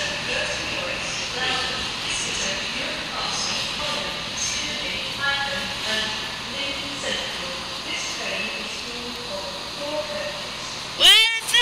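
A train rolls past at Nottingham station, steady rumble and hiss with squealing wheel tones, a sharp screech near the end, while people talk over it.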